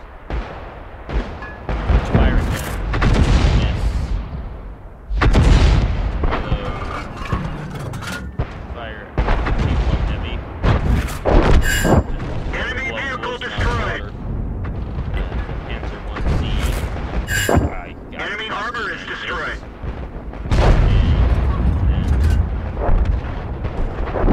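An SU-5 self-propelled gun fires in a video game, with several heavy booming shots spread through the clip amid mechanical clanks, while someone talks over the action.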